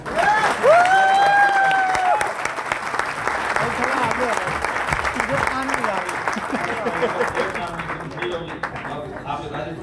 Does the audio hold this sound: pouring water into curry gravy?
no